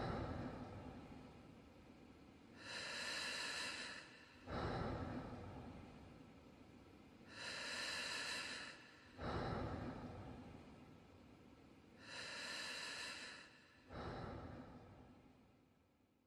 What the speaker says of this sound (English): What you just heard was the sound of breathing